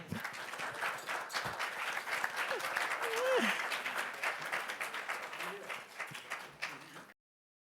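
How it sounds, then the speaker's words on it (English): Warm applause fills a press conference room at the Cannes Film Festival for the Madagascar 3 directors, a steady dense clatter of many hands with faint voices mixed in, fading out at the end. "Warm applause again."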